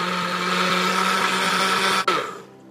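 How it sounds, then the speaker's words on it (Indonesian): Electric blender grinding a corn snack mixture with cornstarch, a loud steady whirring motor that cuts off abruptly near the end, leaving a brief fading spin-down. "Sekarang kita blender dulu."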